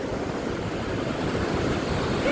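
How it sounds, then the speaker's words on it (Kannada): Ocean waves surge and break on a beach in light drizzle, a continuous loud, rushing wash of surf with wind noise and no pauses, no voices. "ಈಗ ನೋಡಿ ದೊಡ್ಡ ಅಲೆ ಬಂದು."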